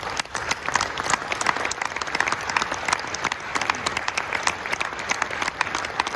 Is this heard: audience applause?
yes